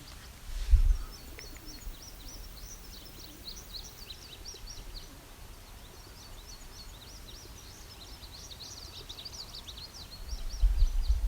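Soft, repeated cooing of rock doves with faint chirps from other birds, including an indigo bunting, steady and moderately distant outdoors.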